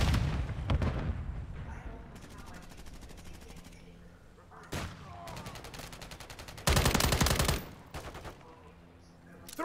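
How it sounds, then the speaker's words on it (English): Gunfire in a Call of Duty battle: bursts of rapid automatic fire and sharp single shots, with heavy booming volleys and loud stretches between quieter gaps. "Taking effective fire!"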